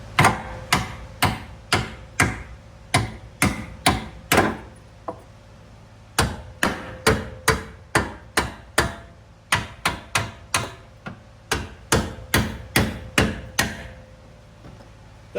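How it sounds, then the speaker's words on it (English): A bigger hammer strikes metal on a stainless steel battery tray for a Honda Element, repeated sharp close blows in quick bursts of several hits separated by brief pauses. "So I resorted to a little bit bigger hammer."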